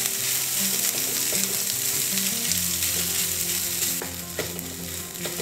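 Ground corn and grated carrot being stirred together in a hot frying pan, a dense, loud, continuous sizzle with scraping and rattling from the spoon against the pan throughout.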